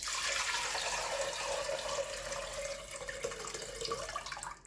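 Fermented rice water for Tanka Torani poured from one bowl into another, a steady, close splashing pour that runs continuously throughout.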